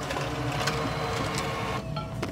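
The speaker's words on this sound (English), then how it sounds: "I'm printing off orders right now. That thermal printer is amazing." A thermal printer printing orders makes a continuous whirring, buzzing mechanical hum at steady loudness, with a brief change in pitch near the end and no talking over it.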